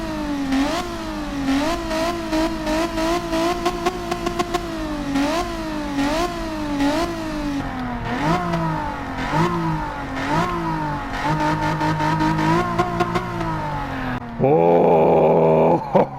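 A loud race car engine in Gran Turismo 7 revs repeatedly in rising, falling sweeps, then a brief burst of higher-pitched engine whine at the end.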